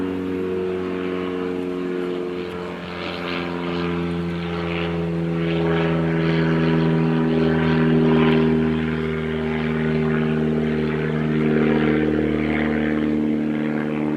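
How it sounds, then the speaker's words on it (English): A propeller airplane drones overhead above a home garden, a loud steady engine hum with harmonic tones that swells slightly and lingers throughout without talk. "There's an airplane."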